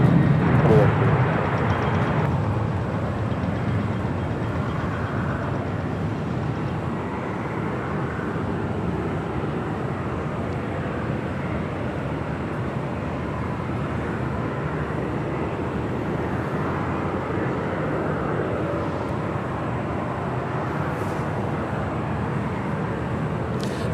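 ABX Air's converted Boeing 767-300ER cargo jet, 31 years old, rolls for takeoff at Los Angeles International Airport, a steady broadband engine roar holding loud throughout with faint voices underneath.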